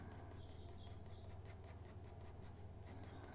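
An HB pencil draws across paper in quiet, uniform strokes, producing a soft, continuous scratching with faint rhythmic pulses over a low background hum.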